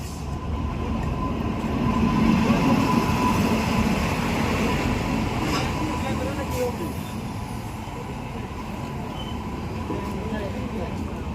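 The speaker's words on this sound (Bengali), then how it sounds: "তো এই ট্রেনেই আমরা উঠবো এখন।" Rumbling passenger train bound for Howrah, Kolkata, rolling steadily and loud and near for the whole stretch, with voices in the background.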